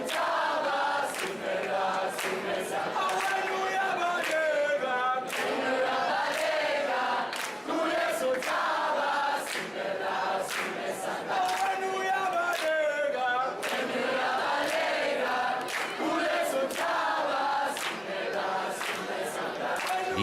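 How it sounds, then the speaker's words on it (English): Protesting youth at the COP17 climate talks shout and chant together as a large crowd, a steady roar of many voices lasting throughout with occasional louder swells. "The crowd poured out their frustration to the negotiators and their fear for the future."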